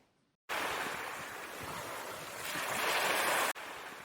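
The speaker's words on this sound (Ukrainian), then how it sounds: "Так це ж море." Steady roaring wash of sea surf, broad and continuous, swelling slightly louder before cutting off abruptly, with no voices.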